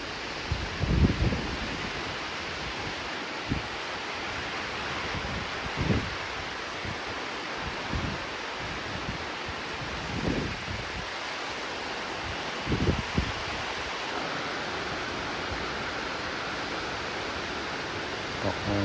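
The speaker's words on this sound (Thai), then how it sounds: "บรรยากาศฝนตก" Heavy rain pours down in a continuous, dense hiss during a stormy evening, with occasional soft thumps and gusts rising briefly above the steady wash; no voices.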